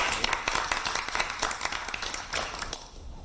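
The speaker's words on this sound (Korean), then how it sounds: "힘찬 박수로 모시겠습니다" Audience at a press meeting clapping, a dense burst of applause from many hands that stays steady and close, then thins out toward the end.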